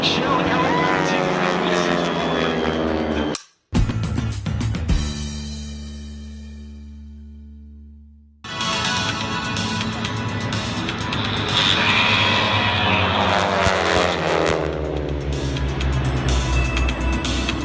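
An aerobatic propeller airplane performs at a lakeside airshow, its engine roaring and droning loudly, dropping abruptly into a falling, fading tone midway, then surging back to a full, sustained roar.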